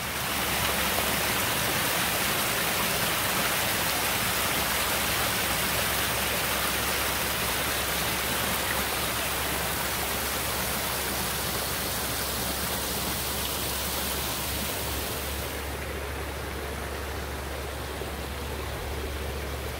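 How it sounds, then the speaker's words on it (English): Tumbling water of a lower waterfall feeding a natural swim pond, a steady loud broadband rush that continues without pause. "Here's the lower waterfall where the same design aspects are taken into consideration."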